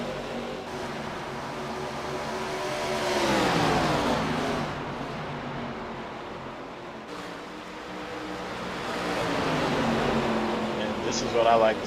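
ARCA-style stock race cars in a Global Racing League video game race lap after lap, their engines droning and swelling as cars pass close by, heard under continuous commentary talk.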